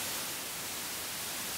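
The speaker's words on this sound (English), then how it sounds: "Yay, we get white noise. But it's not solid white noise." Steady hiss of white noise generated from a server's stream of random numbers, broadband and unbroken at a constant level, with no other sounds.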